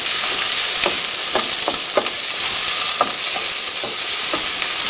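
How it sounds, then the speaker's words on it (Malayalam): Onions fry in a pan with a continuous loud sizzle, and soft scraping stirs come in at irregular moments, close by and without any talking. "ഇനി സവോളയ്ക്ക് ഒന്ന് നന്നായിട്ടൊന്ന് സോഫ്റ്റായിട്ട് വരട്ടെ"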